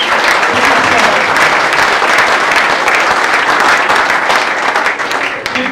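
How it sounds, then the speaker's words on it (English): Audience applause at a St. Jude charity disc golf event, a dense, loud wash of clapping that holds steady throughout and thins slightly toward the end. "Give yourself an applause"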